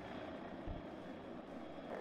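An attack helicopter in the WARNO strategy game makes a steady, muffled rotor and engine drone that holds evenly throughout without pause, at low volume.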